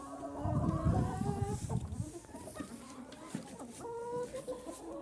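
Several chickens cluck and murmur close by in a coop, their calls overlapping in uneven bursts, with a few louder squawks toward the end.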